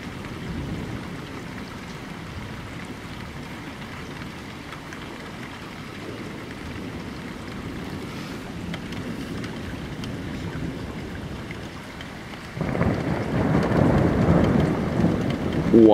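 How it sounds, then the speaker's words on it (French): Moderate to strong thunderstorm in Amboise, France with steady rain and a low continuous rumble of thunder, the rain noise swelling louder near the end. "Le tonnerre toujours."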